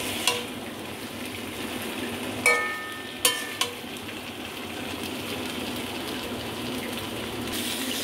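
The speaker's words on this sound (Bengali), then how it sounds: "এবার আমি ভেজে রাখা বড়া পটল সব দিয়ে দিচ্ছি। দিয়ে মিশিয়ে নেব মশলার সাথে।" Fried masoor dal fritters and pointed gourd pieces stirred into oily spices in a pan, giving a steady, close sizzle with a few sharp clinks of the spoon against the pan.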